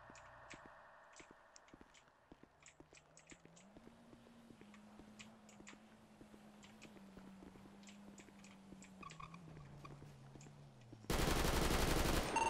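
Gunfire in an armed confrontation in Rio de Janeiro: scattered sharp reports crack through a low background hum, ending in a loud, dense burst.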